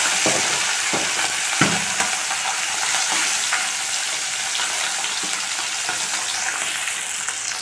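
Bele fish frying in hot mustard oil in a wok, a dense, steady sizzle with crackling pops and a few sharp clacks of a spatula, close and continuous with no voices.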